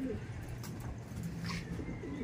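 Soft, low cooing from pigeons nearby, a few short coos over a quiet background.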